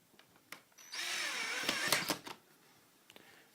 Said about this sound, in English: So once you have your cross brace in place, simply do up the screws.